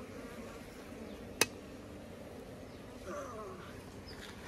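Honeybees hum faintly around a beehive box outdoors, a low, steady buzz with one sharp click partway through and no talk.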